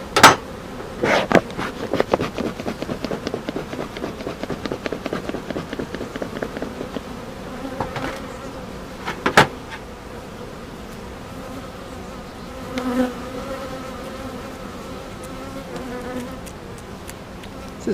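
Honeybees buzz in a dense, close swarm around an open beehive, with individual bees zipping past the listener over a constant drone.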